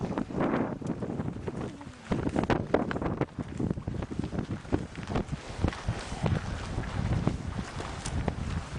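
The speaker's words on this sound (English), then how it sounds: "Wow, look at this wind." Strong gusting wind buffets the microphone at a hilltop viewpoint during a pilgrimage tour in Turkey, a loud, continuous roar with irregular bursts and rumble and no speech.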